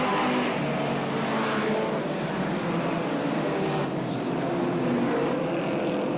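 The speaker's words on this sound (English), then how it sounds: "That's the leader, passing the slower car on the inside." Superstox stock cars racing and passing one another on an oval track, a dense, steady roar of several engines blended together at constant loudness throughout.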